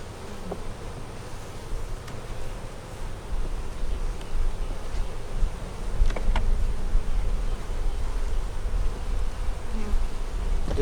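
Honey bees buzz steadily throughout an inspection of a double deep 8-frame hive, a dense, continuous drone from many insects close by with a few brief clicks of frame handling.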